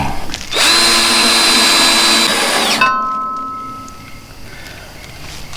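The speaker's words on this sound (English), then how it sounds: "Now I'm going to drill a center hole for where I'm going to put the wires through." Power drill boring a center hole through a metal trailer light bracket, a loud steady high whine for about two seconds that cuts off abruptly, leaving a fading faint ring.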